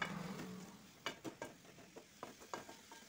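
Cactus curry being sautéed in a pan, soft frying hiss under a handful of quiet spoon scrapes and taps spaced unevenly, close but faint, no talking.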